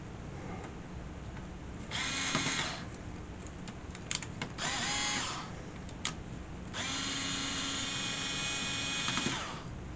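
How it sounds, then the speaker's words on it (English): An electric screwdriver tightens screws on an Atari 410 Program Recorder, its motor whirring in several bursts of one to three seconds, with short pauses and a steady hum between them. "I'm actually holding the screwdriver out of the hole, out of the screw head, so that it'll slip like that, so I'm not over tightening it."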